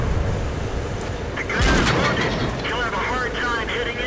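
A single heavy tank cannon shot in World of Tanks, a sharp loud blast in the middle followed by a rumbling decay under steady battle noise.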